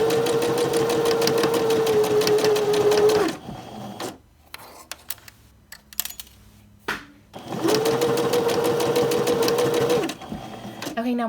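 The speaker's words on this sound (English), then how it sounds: "my feed dogs underneath are pushing my fabric for me" A single-needle industrial sewing machine stitches a plain seam in two steady, buzzing runs of about three seconds each. Between the runs there is a gap filled with quiet fabric handling and clicks.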